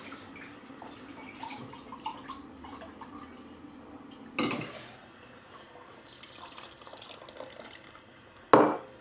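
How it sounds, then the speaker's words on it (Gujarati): Cold water is poured into hot milk being curdled for homemade paneer, heard as soft watery trickling with a couple of brief louder splashes, close by and without talk. "ત્યાં મેં થોડુંક ઠંડુ પાણી નાખી દીધું"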